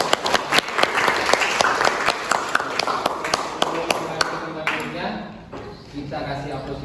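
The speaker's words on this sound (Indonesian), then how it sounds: "kita akan tepuk tangan buat temannya tadi" Classroom applause for a student after a presentation, brisk clapping from a group with sharp individual claps standing out, fading after about five seconds as talk begins.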